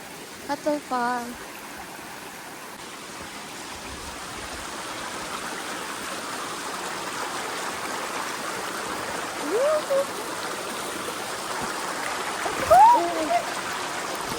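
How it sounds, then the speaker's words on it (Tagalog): A waterfall on a mountain hike gives off a steady rushing wash of water that stays constant throughout, with a few brief voices and sharp calls over it. "Waterfall."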